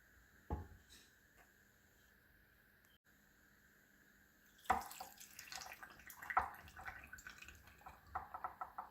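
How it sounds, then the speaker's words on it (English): Pickling liquid is poured into a mason jar, a faint splash and trickle with a few clinks and sloshes, quiet and close, following a stretch of near silence. "Then we need to pour this into our mason jar."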